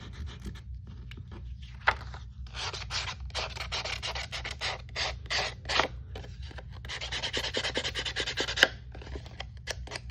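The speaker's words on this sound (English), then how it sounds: "let's get my sanding disc and sand so you can see" Rapid, repeated scratchy rubbing strokes of a sanding disc on construction paper come in quick bursts with brief pauses, fairly close and moderately quiet.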